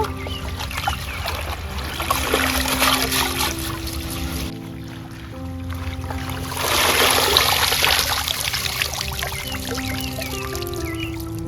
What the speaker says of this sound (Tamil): பிறகு மறுக்கா கழுவ வேணும்